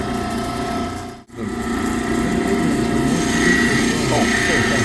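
A peridot crystal is ground slowly against a 200-grit lapidary wheel, giving a steady whirring motor drone with a rough rubbing grind, briefly cut off for a moment then resuming at constant level.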